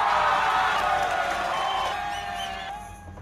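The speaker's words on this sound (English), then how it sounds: "Give me some applause." Crowd cheering and applause swell loudly at first, then gradually fade out over a few seconds.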